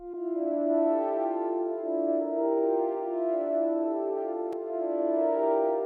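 A synth melody played straight from Analog Lab presets with no effects added, steady sustained tones carrying a continuous tune at an even level, with one brief click near the end and no voices.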